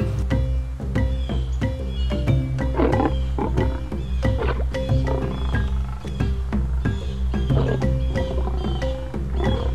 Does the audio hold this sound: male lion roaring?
yes